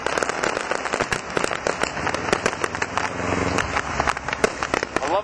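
Fireworks burst in rapid succession, a dense run of sharp cracks and deeper booms close by, crackling continuously with hardly a pause between explosions.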